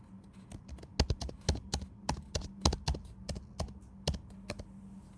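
Code is typed on a computer keyboard in a quiet room, with irregular bursts of crisp key clicks at close range.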